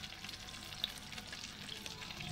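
Milk cream (malai) simmers on low heat as it turns into homemade desi ghee, giving a soft continuous bubbling crackle that stays even and fairly quiet throughout.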